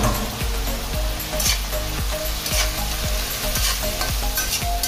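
Shrimp tossed into creamy baked-macaroni pasta in a pan, stirred with a utensil that scrapes and clatters in a steady rhythm of about one stroke per half second over a continuous loud sizzle, with no talk.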